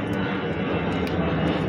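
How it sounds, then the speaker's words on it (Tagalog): An airplane passes overhead with a loud, steady engine roar and broadband rushing noise, continuous over the whole moment with no talking. "Oh, the plane, guys."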